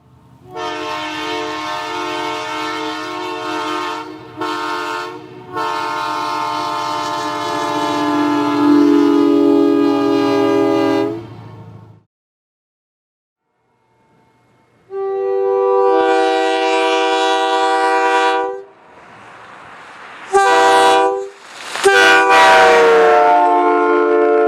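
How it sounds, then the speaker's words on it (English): Nathan M3H and K3L air horns on GMD GP9 diesel locomotives of the Northern Alberta Railways, loud chime blasts: a long sustained blast, a silent gap, then a longer sounding followed by several short sharp bursts. "The locomotives were mostly equipped with Nathan M3H or K3L horns."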